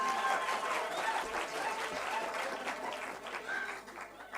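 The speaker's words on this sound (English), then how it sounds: "A big round of applause to the TUT choir." Audience at a university book launch clapping for a choir, a soft continuous patter of hands with faint voices and cheers mixed into the crowd.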